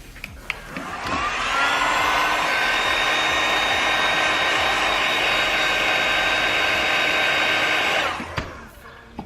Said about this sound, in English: I also have a compressor right here just to cool it down really quickly so I don't mess anything up